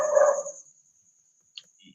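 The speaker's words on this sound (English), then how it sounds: "Osa, Oh, that's your neighbor dog." A neighbor's dog gives a single short bark, then a faint distant yip and a soft whimper follow after a pause of near silence.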